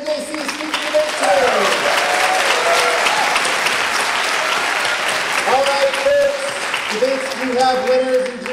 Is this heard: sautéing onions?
no